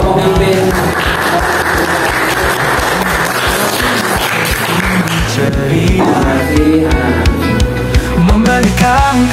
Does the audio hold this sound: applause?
yes